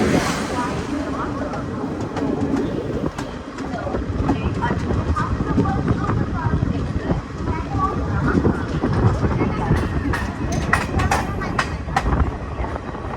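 An old ICF-coach Shalimar Kurla Express rolling at a station: steady loud rumble with rhythmic clickety-clack of wheels over rail joints throughout, close and continuous.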